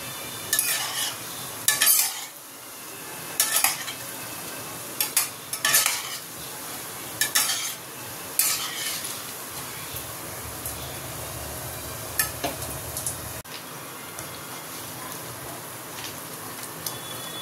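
Phuluri fritters frying in a pan give a steady close sizzle, broken by repeated scraping and clinking bursts as they are stirred. No voices are heard.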